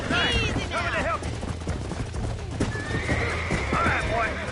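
A horse in a video game whinnies in several loud, shrill neighs mixed with snorts and clip-clopping hooves, while voices talk over it.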